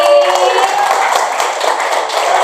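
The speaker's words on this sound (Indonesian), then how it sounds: "Baik, tepuk tangan sekali lagi." Audience applause at a seminar for teachers about using AI, loud, continuous overlapping claps filling the room from start to end, with a faint tonal hum underneath.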